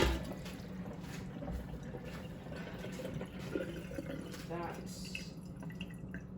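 Pickling liquid for asparagus poured and stirred, faint liquid trickles and soft sloshing with a few drips close by, under a steady low room hum.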